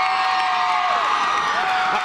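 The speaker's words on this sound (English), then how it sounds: "Crowd pumped up over here, the East Longmeadow student section." East Longmeadow student section cheering before kickoff at a high school football final against Longmeadow, a loud, sustained wash of shouts and whoops with scattered claps.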